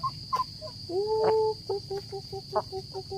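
Chickens in a Lao village in the morning, giving several short clucks and one drawn-out call at middle distance over a steady high insect-like whine and a low ambient hum.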